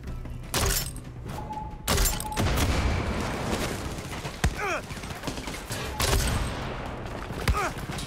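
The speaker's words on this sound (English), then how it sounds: "Get the grenade launcher." Explosive blasts and shattering impacts as a grenade launcher fires at a door in Far Cry 6, several loud booms and crashes spread over the stretch with a voice speaking between them.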